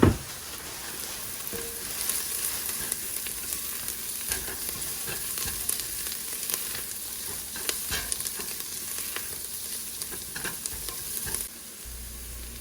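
Minced garlic sizzling and frying in a pot for chicken tortilla soup, a steady soft crackling hiss with occasional stirring scrapes and clicks, close by, continuing for several seconds with no speech.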